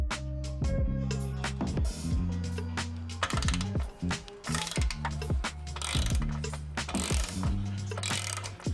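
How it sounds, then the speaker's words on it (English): A socket wrench with a 16mm socket ratcheting while loosening a bolt on a Ducati Hypermotard 939/950 SP exhaust, rapid close metallic clicking in repeated bursts of strokes, loud and clear. "we're gonna take a socket wrench and we're gonna take a 16mm socket"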